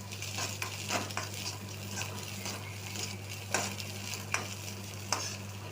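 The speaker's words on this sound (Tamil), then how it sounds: "இது நல்லா கிளறி விட்டுக்கோங்க." Scrambled egg fried rice being stirred in a sizzling pan, a steady frying hiss with a low hum beneath and a few sharp clinks of the spatula against the pan.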